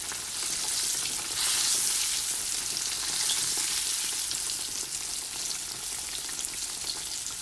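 Southern-style eggplant slices frying in a pan of oil, a strong continuous bright sizzle that swells briefly early on, close and steady without any talking.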